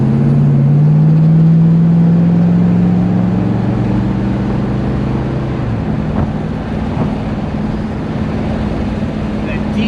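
A 1972 Oldsmobile 442 with a 365-horsepower high-compression V8, the engine droning loud and steady as it pulls, its tone shifting and easing off midway, with the wind and road rushing in close.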